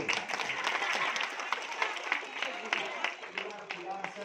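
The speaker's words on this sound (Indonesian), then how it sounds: "Tepuk tangan tuh." An audience applauds at a school mother-tongue language festival in East Kutai, steady dense clapping from a crowd with voices and chatter mixed in.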